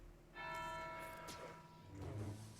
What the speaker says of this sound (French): il y a la petite cloche derrière qui sonne pour Bastila